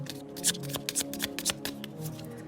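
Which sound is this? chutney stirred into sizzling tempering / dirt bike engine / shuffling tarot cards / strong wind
shuffling tarot cards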